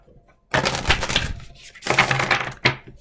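A deck of cards shuffled close by, two quick riffling bursts of rapid crisp flutters followed by a short snap.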